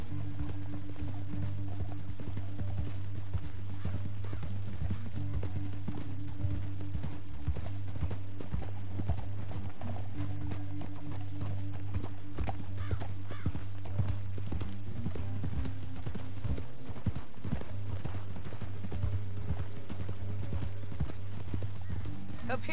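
Horse hooves galloping in the video game Red Dead Redemption 2, a steady rhythmic clip-clop running throughout, mixed with a low rumble and music, while voices talk over it.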